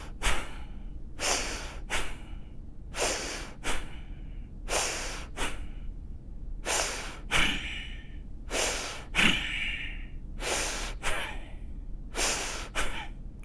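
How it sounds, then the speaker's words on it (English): Bhastrika pranayama breathing: forceful, rapid nasal inhalations and exhalations come in quick paired bursts, repeating in a steady rhythm about a dozen times, close and loud with brief pauses between. "one round of forced inhalation, forced exhalation"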